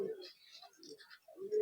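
A female Madras pigeon in a loft gives a short, soft cooing call, close and brief.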